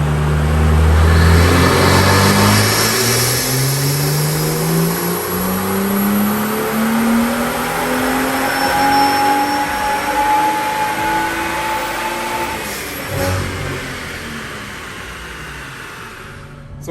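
A BMW M2 with the N55 engine, fitted with an intake, charge pipe and intercooler upgrade, runs on a dyno, revving hard with loud rising and falling engine tones that sweep upward and then wind down near the end.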